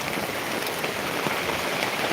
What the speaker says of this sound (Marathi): बघा पाऊस लय जोरात पाऊस